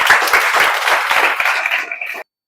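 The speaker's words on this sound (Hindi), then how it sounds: "इसके लिए जोरदार ताली बजाइए" Brief, loud burst of audience applause in a classroom gathering honoring a village boy becoming an IITian, many hands clapping together for about two seconds before cutting off abruptly.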